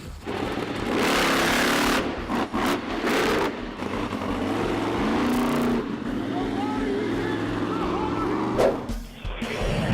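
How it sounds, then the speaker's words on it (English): Monster truck engine heard from the cockpit in Hawaii, loud rough roaring and revving with surging bursts and brief dips, someone talking over the mechanical din throughout. "As PunishUM takes you in the cockpit of a real monster truck."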